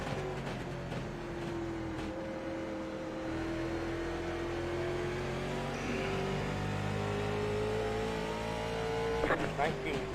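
Asphalt late model race car in the iRacing sim, engine droning at steady high revs with a long tonal whine that shifts slightly, continuous and close, with a brief rise near the end and commentary talk over it.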